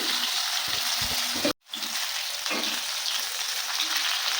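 Large bhola fish pieces fry in hot oil with a steady crackling sizzle, briefly cut out for a moment, then returning, with a few low knocks early on.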